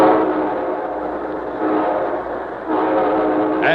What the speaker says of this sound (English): And here comes our star-studded show train.